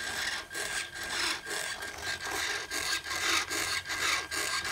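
A small RC airplane elevator servo on an XP-8103 transmitter setup with a DM9 2.4G module whirs in short repeated bursts as it sweeps back and forth, close and fairly faint, with no talking.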